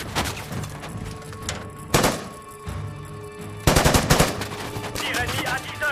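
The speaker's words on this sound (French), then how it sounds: "Tir ennemi à 10h." Gunfire in a desert war film about Saddam's gold: loud, close bursts of rapid automatic shots crackle against a rumbling battle background, with a sharp single crack between the bursts.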